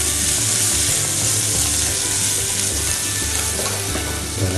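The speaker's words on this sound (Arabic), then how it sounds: "البصل بدا اهو لونه يحمر معايا" Onions browning in a pan for a courgette, potato and minced meat tray bake, giving a loud, dense, continuous sizzle and crackle with a low rumbling hum underneath, no voices.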